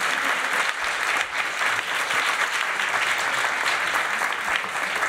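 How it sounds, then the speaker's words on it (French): Festival audience at a game event gives dense, steady applause, many hands clapping at once in a continuous wash that holds evenly throughout. "je pense qu'on peut les applaudir encore une fois"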